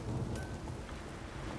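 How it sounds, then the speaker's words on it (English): Steady rain and low rumbling thunder from a thunderstorm in The Witcher, a continuous dense wash of downpour with a deep rolling undertone, moderately loud with no voices. "A storm"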